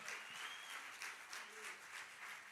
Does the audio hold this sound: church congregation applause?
yes